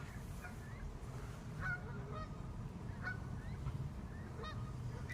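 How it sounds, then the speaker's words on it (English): Geese resembling small Canada geese with more white in their faces honking at a fishing spot, several short honks spaced irregularly at middle distance over a steady low outdoor rumble, no talking. "They basically look like small Canada geese with more white in their faces."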